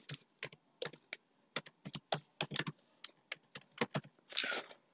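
Quick, light keystrokes on a computer keyboard while entering text into a Microsoft Word table, irregular bursts of clicky taps close to the mic, ending in a brief rapid flurry, with no talk.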